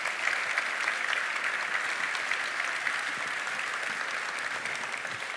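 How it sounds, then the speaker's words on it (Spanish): Steady audience applause at an innovation seminar for small businesses fills the whole stretch as a dense, even wash of clapping, moderately distant and with no one speaking over it. "Un fuerte aplauso, por favor, para ellos."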